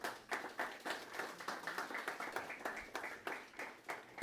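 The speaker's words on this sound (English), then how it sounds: "A big round of applause." An audience at an Australia Day awards event in Cambooya applauds the nominees, a faint, continuous patter of many hands clapping in a loose, even rhythm with no speech over it.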